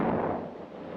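A towed 155mm howitzer fires, one loud booming blast at the very start that decays into a fading rumble over the following second.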